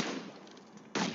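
A grenade blast in the PUBG Mobile shooter arrives as a sharp, broadband burst at the very start. A second abrupt bang hits near the end, both thin and compressed like game audio.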